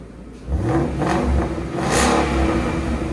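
A 2016 Ford Mustang GT with a 5.0L V8 and valved exhaust, valves closed, revs up loudly and close by, holding a steady deep rumble with a couple of rises in pitch through the throttle blips.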